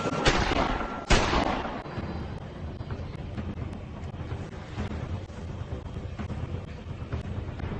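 Two gunshots fired in a crime reenactment crack out close and loud in quick succession, followed by a rumbling, wind-buffeted outdoor background.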